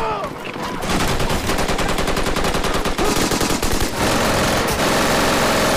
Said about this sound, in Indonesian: tentara Amerika langsung menembakinya dan terjadi kontak tembak antar kedua pihak